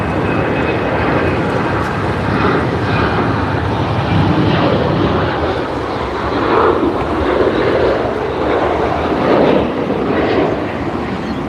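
Embraer E190AR airliner at Sydney Airport, a steady broad jet engine roar that holds loud and continuous throughout, with wind buffeting on the microphone and no talking.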